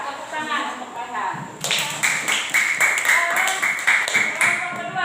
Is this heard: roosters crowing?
no